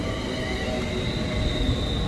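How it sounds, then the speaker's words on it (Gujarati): A train in the UK runs steadily and close by as it arrives at a station, a continuous rumble with a faint high squeal from the wheels and no voices. "અને હવે ટ્રેન આવવાની છે સુપરફાસ્ટ"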